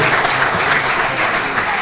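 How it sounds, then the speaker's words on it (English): A studio audience at a Gaelic football discussion show gives a round of applause: dense, steady clapping that is loud and continuous throughout. "We'll give a round of applause for that."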